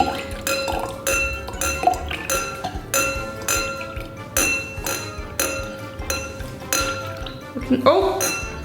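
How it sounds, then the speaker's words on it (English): A drinking glass partly filled with water, being tuned as part of a glass harp, is tapped repeatedly in a steady rhythm, giving bright ringing pings close by while a person talks over them. "As I do it really carefully, I'll tap on the glass."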